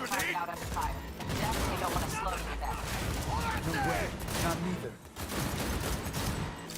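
Rapid video game gunfire crackles almost nonstop in dense bursts, with a voice talking excitedly over the shooting throughout.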